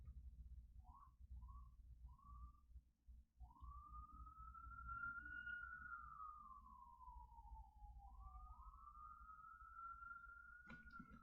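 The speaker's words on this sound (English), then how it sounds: "Sorry for the sirens." A police siren wails outside, rising and falling in long sweeping tones after a few short yelps, fairly faint and distant over a low background rumble, with no talking.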